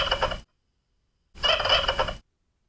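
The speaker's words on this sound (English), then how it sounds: "that sounds like quite a turkey" Recorded turkey gobble played back from a small sound button, two short bursts of gobbling separated by a second of silence, fairly faint and with no talking.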